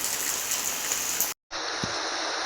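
Rain falls in a steady, dense hiss, broken by a sudden moment of silence before the downpour resumes unchanged.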